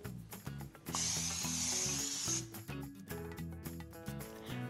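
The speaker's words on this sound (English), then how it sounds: "spray your baking sheet" Cooking spray hisses onto a baking sheet in a single burst of about a second and a half, bright and close, over light background music.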